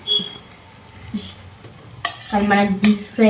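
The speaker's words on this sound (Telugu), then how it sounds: "ఇవి పీస్లతో పాటు అల్లం పేస్ట్ పచ్చివాసన పోయే వరకు కొంచెం మళ్ళీ ఫ్రై చేసుకోవాలి" Chicken pieces fry with ginger paste in hot oil for pickle and are stirred now and then, a low sizzle rising into louder spoon scrapes and clatter in the pan, close by.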